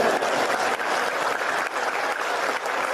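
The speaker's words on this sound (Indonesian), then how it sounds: "Mana tepuk tangannya?" A seminar audience claps steadily and densely for about three seconds, a continuous wash of applause with no pauses.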